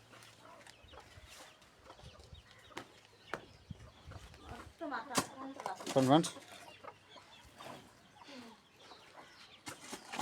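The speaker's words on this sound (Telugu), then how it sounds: "ఇక్కడ కోడిని వదిలేస్తాం లోపల తిరిగేదానికి" Hens and chicks cluck in a yard, a steady scatter of soft calls with a louder burst near the middle, while a person talks nearby.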